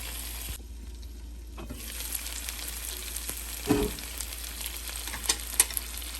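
Kerala-style chicken drumsticks fry in a pan, a steady close sizzle with crackling spits and a brief louder burst midway as a piece is moved, no voices over it.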